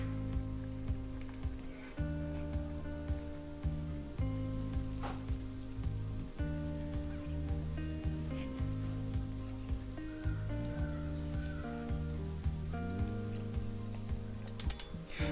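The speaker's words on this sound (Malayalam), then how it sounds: "2-3 ഉണക്കമുളകും കുറച്ച് കറിവേപ്പിലയും ചേർത്ത് നമുക്കിതിനെ വറുത്തെടുക്കണം" Onions, dried red chillies and curry leaves fry in hot oil for a Kerala pumpkin and bean curry tempering. A faint, steady sizzle runs under louder sustained background music throughout.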